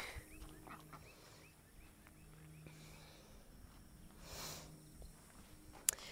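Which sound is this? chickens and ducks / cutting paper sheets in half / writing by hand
chickens and ducks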